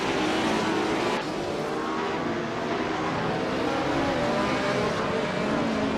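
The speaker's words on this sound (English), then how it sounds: "Buckyboard is driving a Ferrari 312, and they're currently in 18th place." Ferrari 312 race cars roar continuously in a racing video game, a loud sustained engine drone with a shifting pitch as the cars pass, alone without talk.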